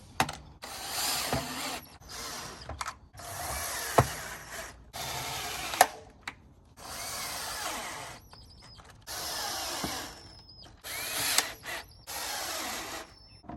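A power tool drives nuts onto anchors for a septic tank riser in repeated short bursts, each loud whir and ratcheting rattle separated by brief pauses, heard close up with no talking.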